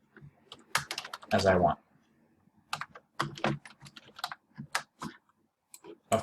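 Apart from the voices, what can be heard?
typing text on a computer keyboard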